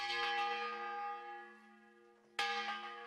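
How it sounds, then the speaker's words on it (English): A church bell rung by rope from a belfry above a lush valley in Catalonia, Spain, peals twice, each strike ringing out with a long, resonant, fading hum. The bell sounds moderately distant. "grips the rope, and with one tug fills the lush Spanish valley below with the reverberating peal of a church bell"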